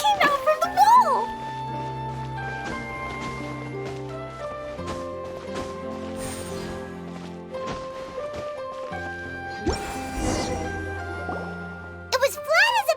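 A water droplet pops out of a wall in Genshin Impact, heard as a few short wet drip and bloop sounds near the start and again at the end. Gentle game music and chimes play throughout with sustained tones.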